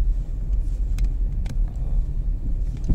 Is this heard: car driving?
yes